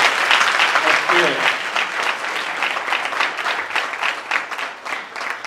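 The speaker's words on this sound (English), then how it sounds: "Let's give Dr. Maya Angelou a round of applause." An audience at a talk on visionary leadership gives a round of applause, steady and fairly loud. The clapping continues for several seconds with slight swells before starting to thin.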